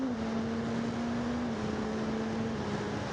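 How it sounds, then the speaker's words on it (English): A Suzuki GSX-S1000 GT motorcycle holds a steady engine drone under heavy wind rush while riding, and its pitch steps down briefly as it makes a clutchless upshift. "Right, let's try the upshift now."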